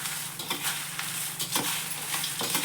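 Corn chivda is tossed with chili powder in a pan, a steady dry stirring and light sizzle with soft scraping accents, close and continuous.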